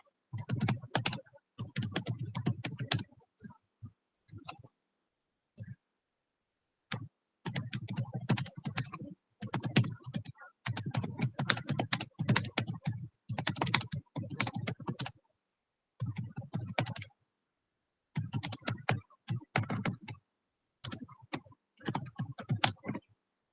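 Typing on a computer keyboard in bursts of rapid, close key clicks separated by short pauses, steady and alone, during a Contract Act law lecture.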